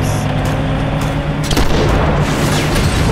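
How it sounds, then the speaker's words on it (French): Cannon fire in the video game Uncharted 2, a loud boom around mid-clip over a rumbling, busy game soundscape with sustained low noise and a brief high tone at the start. "Quoi, le canon?"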